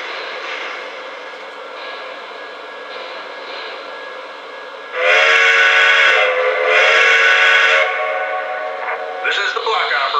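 A logging train's whistle sounds in long repeated blasts over a steady engine rumble as it departs, getting louder midway with two strong sustained blows.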